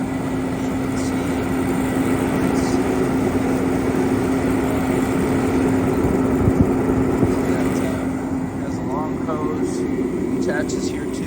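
Mr. Heater industrial forced-air propane heater, a 170,000 BTU unit fed from a standard propane tank on a snowy job site, gives a steady, loud blower-and-burner roar with a constant low hum throughout, and a voice is faintly present over it.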